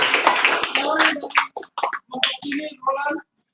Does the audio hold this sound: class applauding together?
yes